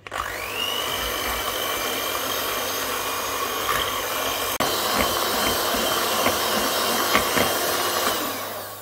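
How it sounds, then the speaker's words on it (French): An electric whisk beats sugar for a chocolate cake batter, a continuous close whirring motor drone with slight pitch shifts and a brief clack midway, running nearly the whole time without speech. "Et on va fouetter pendant environ 1 minute."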